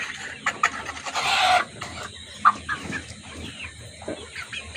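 A rooster of a coloured poultry breed gives short, sharp clucks in bursts, fairly close, with a brief rasping noise early on and no talk over it.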